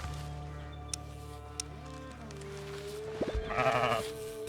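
Sheep bleat in Surviving The Aftermath, a short wavering bleat rising near the end over a quiet game hum with faint clicks, with no talking.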